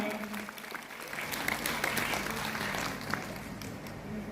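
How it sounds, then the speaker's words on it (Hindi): A crowd at a Women's Day event in Raigarh, Chhattisgarh, claps in welcome, a moderately loud, continuous patter of many hands with a few sharper claps standing out and some murmur beneath. "जोरदार तालियों के साथ स्वागत कीजिएगा।"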